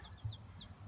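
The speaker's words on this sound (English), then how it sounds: "we have a broody hen that I found" A broody hen in a backyard chicken coop gives a few short, faint clucks, closer and slightly louder about a quarter second in, over low background rumble.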